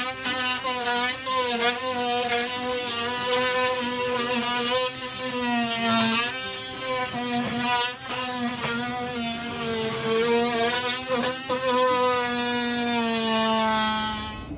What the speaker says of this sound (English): get my trusty little oscillating tool here and cut the rest down to the frame